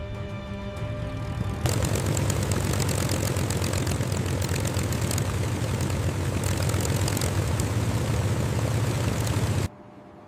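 A North American P-51 Mustang's propeller engine roars steadily and loudly close by, a dense continuous drone that starts abruptly and cuts off near the end, with no voices.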